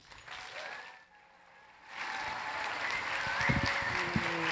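An audience applauds to welcome speaker Jamie Belinne, the clapping swelling from a modest patter into fuller, sustained applause.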